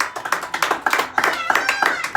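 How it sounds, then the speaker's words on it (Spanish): A church congregation claps along together with quick rhythmic hand claps, roughly steady beats of bright applause over a couple of seconds with a voice faintly underneath. "Si usted lo cree, dele palmas al Señor."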